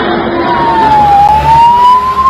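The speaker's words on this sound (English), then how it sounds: "And in the distance, the sound of sirens." Emergency vehicle sirens wail faintly in the distance, one slow rising and falling tone drifting over a loud, steady background roar near a Delhi railway station after a stampede.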